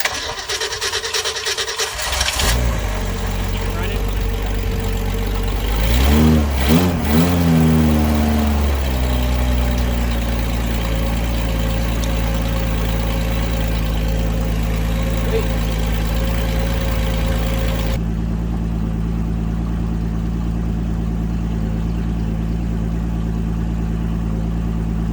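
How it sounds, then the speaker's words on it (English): A neglected 1965 Ford Mustang engine catches after a brief rev and settles into a loud, steady idle with a low rumble, close to the microphone, running on throughout. "So after a little bit of tinkering, we did get the engine to run."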